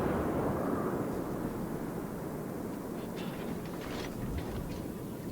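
Naval gun salvos fired at an enemy ship, a Phoenix, in a warship battle game, heard as a constant heavy roaring rumble with muffled booms and a cluster of sharper reports near the end, with no voices.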